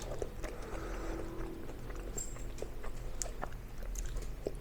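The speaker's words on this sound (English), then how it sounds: "Sometimes I feel like I chew forever." Close, quiet wet chewing of pesto pasta salad, with soft repeated mouth clicks and squishes over a low steady background hum.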